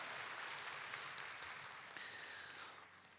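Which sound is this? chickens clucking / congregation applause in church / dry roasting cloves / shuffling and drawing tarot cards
congregation applause in church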